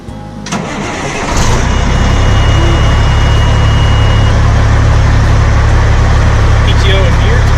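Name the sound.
truck engine starting up and idling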